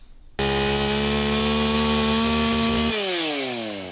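A chainsaw held by wildland firefighters clearing brush roars to life and runs at a loud, steady pitch, then shifts and bogs slightly as it cuts into wood.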